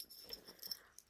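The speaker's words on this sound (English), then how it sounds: "My doggy's purring." A dog makes a faint, close, wheezy rumbling purr, soft rhythmic breathing sounds with no talk over it.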